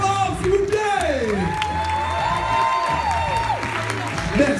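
Audience at a 3vs3 team dance battle quarter-final applauding and cheering steadily throughout, with whoops over music and a host's voice speaking above the crowd.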